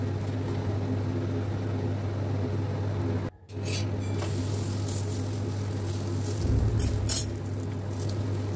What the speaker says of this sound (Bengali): আমি আর একটা পরোটা এরকম করে ভেজে নিচ্ছি।